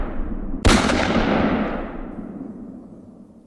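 A single sharp gunshot cracks loudly, followed by a long rumbling echo that slowly fades away.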